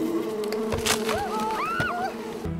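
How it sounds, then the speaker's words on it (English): Bees buzz steadily around a beehive outdoors, a continuous close drone with individual insects whining past, on a Survivor island setting. "There's a beehive up here."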